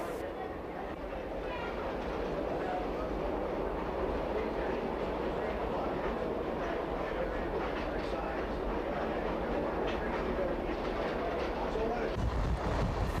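A Union Pacific 40th anniversary steam excursion train rolls toward the outskirts of Laramie, a steady rumble with rhythmic wheel clatter held throughout, heard from on or near the train, with a low hum dropping away near the end.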